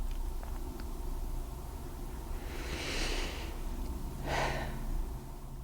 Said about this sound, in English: now do this for 5 slow breaths